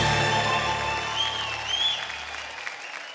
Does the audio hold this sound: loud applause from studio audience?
yes